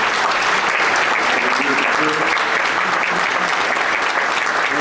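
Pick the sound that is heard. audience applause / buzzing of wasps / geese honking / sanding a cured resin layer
audience applause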